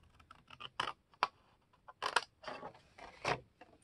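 Paper matchbox template being cut with scissors or a craft blade along score lines at a corner, a series of short crisp snips and scratchy cuts in an uneven rhythm, close and fairly quiet.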